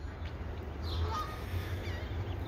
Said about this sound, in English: we got some geese in the background